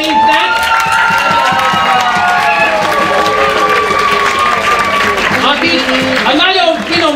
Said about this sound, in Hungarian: És most akkor kérünk szépen egy nagyon nagy tapsot